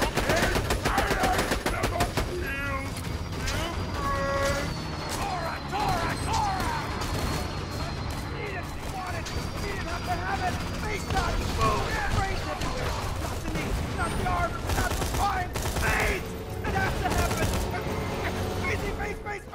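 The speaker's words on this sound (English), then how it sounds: "Shoot him in the face." Borderlands 2 gameplay gunfire: dense rapid shots and bursts running continuously under game music and effects, loud and busy throughout, with a voice talking over it at times.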